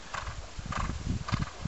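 A horse trots on long grass during a cross-country ride, giving three quick, close rhythmic hoofbeats over a soft background rumble.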